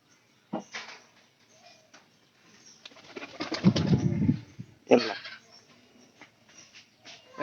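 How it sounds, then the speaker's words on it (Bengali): Pigeons kept in a loft flutter and shuffle nearby, with a loud burst of wing flapping in the middle and brief coos and rustles around it. "এবারে সবচেয়ে বড় পায়রা।"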